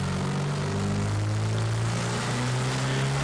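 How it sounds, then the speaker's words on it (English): A turbocharged engine on a low wastegate spring pressure setting spools up sluggishly, giving a steady, loud drone with rising harmonic tones held throughout, with no voices. "With the spring pressure setting at its lowest value, the turbo spool up is a bit laggy."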